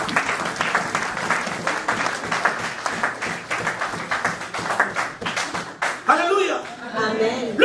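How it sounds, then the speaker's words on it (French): A church congregation claps and applauds continuously with a dense, lively rhythm, and a voice speaks over the clapping near the end. "Acclame, acclame, acclame. Clap for yourself."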